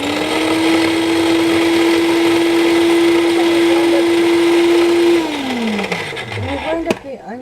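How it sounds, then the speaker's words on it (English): An electric chopper grinds onions with a steady, loud motor whine that holds for about five seconds, then spins down and stops, leaving some clattering near the end. "When you grind up the onions, it's small enough that if your kids do not like onions, they will not know the onions is in there"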